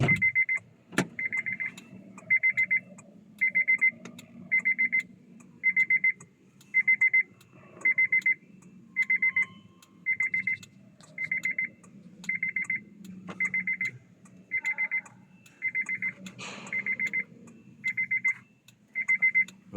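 A Honda CR-V sport-type vehicle with a 2.0 engine has its car alarm set off from the key fob, giving a steady series of about twenty identical electronic beeping bursts at an even pace, with faint background noise between them.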